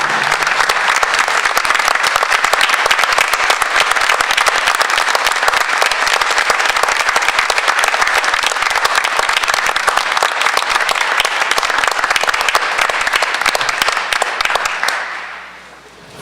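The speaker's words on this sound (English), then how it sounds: "I hope that everyone could stand up and give Mr. Metcalf a round of applause and a hearty thank you" Sustained, dense audience applause at a school board of education meeting, loud and steady for about fifteen seconds before quickly dying away at the end.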